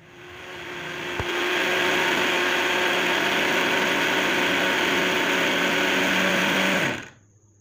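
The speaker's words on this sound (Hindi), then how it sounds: "अब हम इन्हें फिर से ग्राइंडर में बारीक पीस लेंगे।" An electric kitchen grinder pulverizes amchur powder and ajwain for chaat masala, a loud, steady high-pitched motor whir that ramps up, runs for about six seconds, then winds down to silence.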